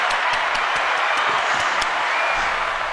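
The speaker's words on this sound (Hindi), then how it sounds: "And इसी बात पर तालियां." Audience claps for the Mithila Makhan team at a live interview event, a steady burst of crowd applause lasting a few seconds, loud and close.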